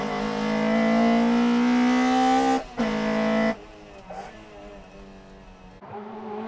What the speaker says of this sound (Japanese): 同じ排気量ながらパワーと軽さで MRS が加速で引き離す。